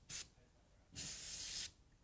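Plastisol ink remover sprays onto a printed shirt from a spray bottle: a brief hissing burst, a pause, then a longer hissing spray, close and clear with no talk.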